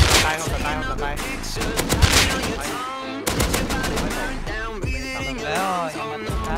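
Repeated bursts of gunfire in the survival game Rust, loud and rapid, with excited voices talking over the shooting throughout.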